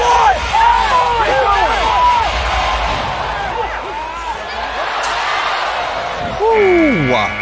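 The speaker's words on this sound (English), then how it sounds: "let him hear the applause from this crowd" A rodeo crowd at a bucking bull event applauds and cheers after a bull ride, a broad sustained roar that swells and fades while an announcer talks loudly over it.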